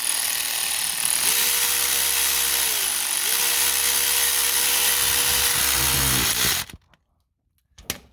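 A ratchet or power driver whirs steadily for about five seconds, with a brief pitch dip midway, tightening the bottom bolt on a Subaru Outback automatic transmission through a wobble extension, then cuts off abruptly into near silence.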